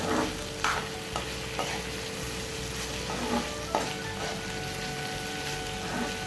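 Vegetable pieces frying in a pan for Nellore-style pappu pulusu, a steady low sizzle broken by a few soft scraping stirs, close and fairly quiet with no voices.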